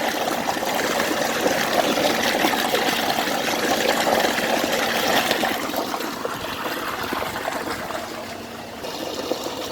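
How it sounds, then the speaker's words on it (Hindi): Water poured into a container of milk to make raw lassi, a continuous splashing, gurgling pour heard close up with no talking. "अब जितना इसमें दूध है उतना ही मैं पानी शामिल करूँगा कच्ची लस्सी बनाने के लिए।"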